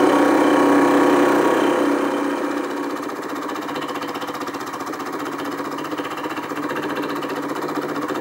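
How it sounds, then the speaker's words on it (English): A LittleMachineShop.com 3960 HT minimill takes milling cuts across a metal workpiece at about 15 thousandths depth of cut, giving a steady close mechanical whir and chatter that is louder at first and then settles to an even level. "just take a few milling cuts across it."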